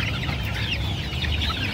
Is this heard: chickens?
yes